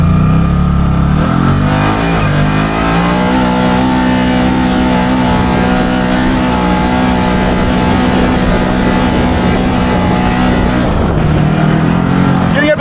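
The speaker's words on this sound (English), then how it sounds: "There's some full throttle action through the sand" A Can-Am Maverick Sport XMR side-by-side on 35-inch Aztexs tires, in two-wheel drive, runs at full throttle through sand toward about 7,400 RPM. Its engine drones loudly and steadily, rising in pitch at first and then holding a sustained roar before easing near the end.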